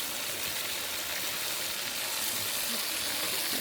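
Whole native cumin seeds sizzle in hot oil for a silver carp curry, a steady, dense, fairly loud hiss that holds evenly throughout with no talking.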